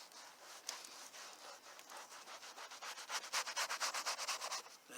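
A Brillo pad scrubs a dirty cloth armrest with steady, vigorous back-and-forth rubbing that grows into a faster, louder rhythmic scratching, close up with no talk.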